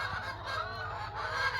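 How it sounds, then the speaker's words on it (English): Farm poultry honk and squawk in a close, noisy cluster, a steady overlapping clamor of fowl with no talking. "All right, noisy chickens are here."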